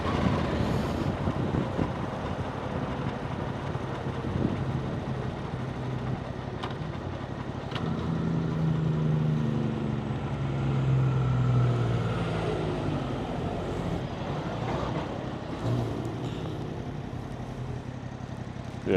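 A Yamaha MT-07 motorcycle riding on a road at 16 degrees, a continuous engine drone under heavy wind rush, rising and falling with speed over the whole stretch.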